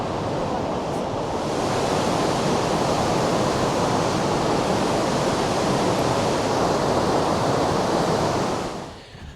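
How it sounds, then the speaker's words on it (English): Linton Falls waterfall at Grassington in Yorkshire, a constant loud roar of rushing water that holds steady throughout and drops away only at the very end. "It's noisy here, but this is Linton Falls"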